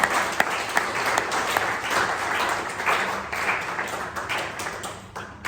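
A club meeting audience breaks into a sustained round of applause, dense and fairly loud, with a few sharper individual claps standing out before it fades near the end.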